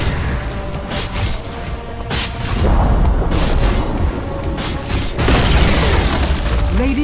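Radiant's middle tower collapses in a Dota 2 match, with heavy booming and crumbling rumbles that build up and sustain over several seconds amid the battle's clatter.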